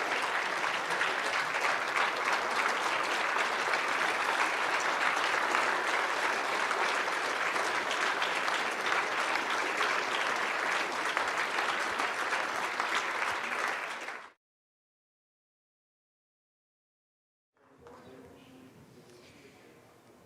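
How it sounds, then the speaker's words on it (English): An audience at a community speaker event gives loud, sustained applause for about fourteen seconds, then goes abruptly silent, and a softer stretch of clapping and room noise follows. "give this amazing round of speakers an incredible round of applause"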